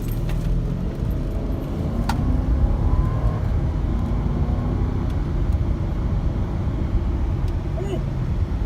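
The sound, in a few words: 2013 Mercedes GL450 accelerating at 50% throttle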